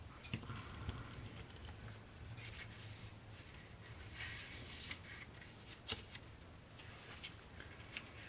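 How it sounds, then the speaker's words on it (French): Paper being creased and folded with a bone folder, soft faint rubbing and scraping strokes with light taps, close and quiet with no talk. "Et on va plier. Hop, mon plioir."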